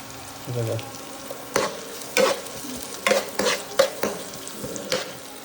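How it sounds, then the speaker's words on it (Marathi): Vegetables sizzle steadily in a pan while a utensil stirs and scrapes against the metal in irregular strokes, close by. "थोडा वेळ शिजवून देऊ थोडस जरा थोडंसं मस्त फ्राय होऊ दे"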